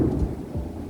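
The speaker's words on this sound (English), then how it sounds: "fully turned into the next thunderstorm" Low thunder rumbles during a backyard thunderstorm, a deep rolling sound with a faint wash of rain and no voices.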